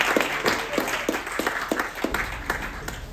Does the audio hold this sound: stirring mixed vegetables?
no